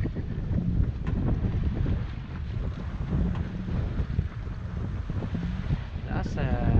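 Wind roars steadily across the microphone aboard a Dufour 375 GL sailboat under way at sea, a loud, constant rush with water and hull noise beneath it and a faint voice near the end.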